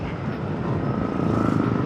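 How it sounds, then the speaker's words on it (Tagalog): A Yamaha Aerox 155 V3 scooter engine revved at full throttle, a loud, close droning roar that builds slightly in intensity and holds steady throughout, with no talking. "Tapos sa kanyang makina, maririnig natin na parang tunog NMAX din."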